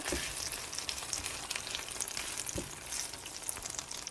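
Steady, close sizzling of ramen ingredients frying in a pan, a continuous crackling hiss with a few brief louder pops and stirring clatters.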